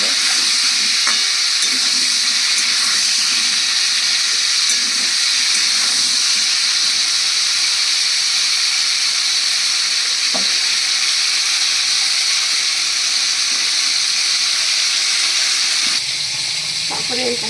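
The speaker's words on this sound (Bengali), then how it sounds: "আমার রেসিপি একদম কম তেলে রান্না, যার জন্য আমাকে আলাদা আলাদা করে ভাজতে হবে।" Potatoes and pointed gourd frying in a little oil, a loud, steady, close hiss of sizzling throughout with occasional faint scraping from stirring.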